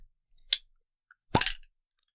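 A bottle of raspberry-scented drink is opened: a short crack or click, a tiny tick, then a sharper pop with a brief fizzing rush, close and fairly quiet with no voices.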